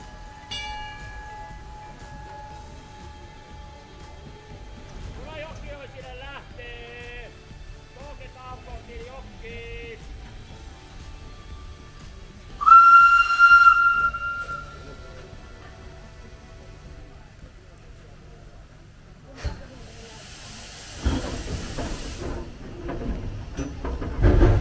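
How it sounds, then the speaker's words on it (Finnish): A bell rings and a museum steam train departs on the Jokioinen heritage railway at its summer season opening. A steady rumble carries a sudden loud whistle midway, then a burst of broad steam hissing near the end. "Varttia myöhemmin kello soi taas ja matkaa jatkettiin kohti Jokioista."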